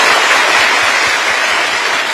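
A crowd at a lecture claps steadily and loudly for a couple of seconds, a dense wash of applause.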